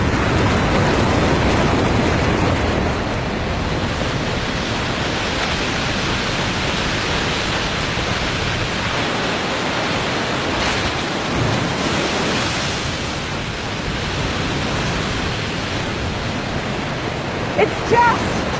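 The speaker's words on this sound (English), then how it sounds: "it is pouring and pouring over the waterfall in this great dramatic jumble of mud and broken ice" The melting-snow Alexandra waterfall in Canada's tundra region pours a dramatic jumble of mud and broken ice, giving a steady, loud, broadband roar that carries on unbroken throughout.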